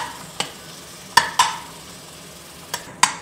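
Onions frying in a pan for a north Indian style mutton gravy, a soft steady sizzle punctuated by five sharp metallic clinks of a spoon stirring against the pan.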